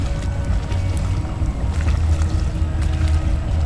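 A small dinghy comes alongside a dock at Manoel Island, with a steady low motor rumble and water washing against the hull, close and continuous without speech.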